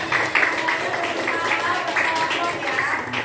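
Children in a classroom clap together after a teacher's prompt, a dense, steady patter of many small hands lasting a few seconds, with chatter mixed in.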